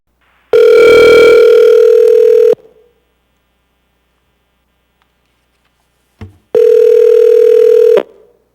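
A telephone line dialing out to a caller for a public hearing: a steady dial tone for about two seconds, silence, a brief click, then another sustained tone, clear and alone.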